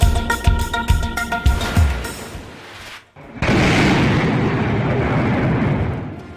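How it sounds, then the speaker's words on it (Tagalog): A powerful blast strikes a building in Moscow after a drone hit, a broad roaring boom after a brief silence that rumbles on loudly and steadily, preceded by a series of sharp impacts. "Malakas na pagsabog ang nasaksihan sa isang gusali sa Moscow, Russia matapos tumama roon ang drone strike"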